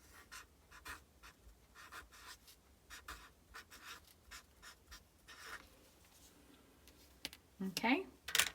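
A pencil scratches across paper as a name is written on a story retelling sheet, a series of short rhythmic close strokes, followed by a brief higher squeak and rustle at the end.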